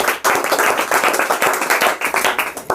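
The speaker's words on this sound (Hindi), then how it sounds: "ताली बजाइए।" Students clapping in an offline classroom quiz session, a loud, close burst of dense rhythmic hand claps that starts abruptly and keeps a quick, slightly uneven beat for under three seconds, with no talk over it.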